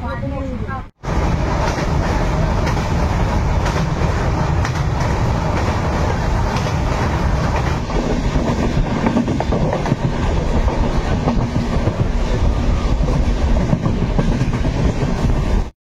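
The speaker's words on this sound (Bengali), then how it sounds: "আমাদের ট্রেনটা 30 মিনিট মতো লেট ছিল" A passenger train runs on the rails as it arrives at Puri in the early morning, giving a steady loud rumble with rhythmic rail clatter after a brief pause at the start, and voices faintly mixed in.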